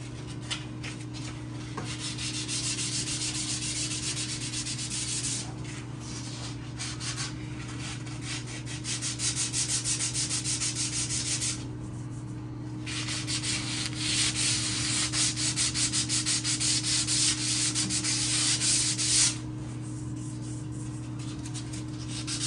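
Continuous hand sanding of tile filler with 240-grit sandpaper during bathtub and tile reglazing, a close, steady rasping scrub with brief pauses and shifting strokes, accompanied by a constant low hum.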